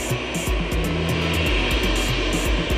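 Loud, steady roar of a Batik Air passenger jet's engines close by at Sultan Hasanuddin Airport, Makassar, a dense continuous drone with a low rumbling throb throughout.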